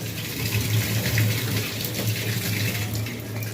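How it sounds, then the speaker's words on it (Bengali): Water runs steadily from a tap in a home kitchen while fish cooks, a continuous gushing flow, close and fairly loud, with no talking. "জলের আওয়াজ"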